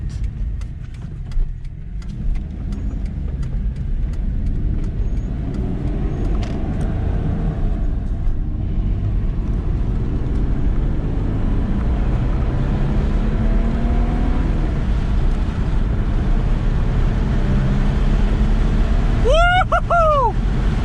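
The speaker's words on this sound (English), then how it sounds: "I'm gonna go and take it for a quick little drive, see what she do" An Audi B5 S4 drives along, its engine note a steady, continuous drone with road rumble throughout, rising slightly near the end, where a brief tonal chirp cuts in.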